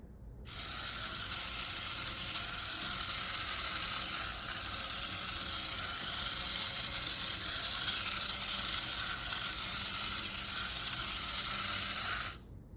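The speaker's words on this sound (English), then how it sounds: "Then I spent some time hooking up the motor and motor driver and testing with the Nano." A small Furby toy's geared motor, run by a motor driver and Nano board, whirs continuously with a fine ratcheting buzz for about twelve seconds, close and steady, then stops abruptly.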